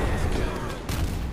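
Toy cannons booming in a tabletop American Revolution battle recreation, a dense rumbling barrage of simulated artillery fire filling the short moment.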